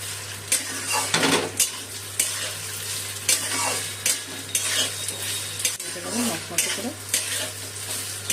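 Gobindobhog rice fries in a pan over raised gas heat for basanti pulao, a steady close sizzle with repeated stirring scrapes and utensil clinks and a low hum underneath.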